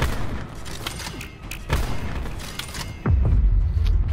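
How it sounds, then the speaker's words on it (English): A sensor dart fired in a video game, a sharp thump standing out from busy game noise, followed by a louder, sustained low rumble. "Firing sensor dart."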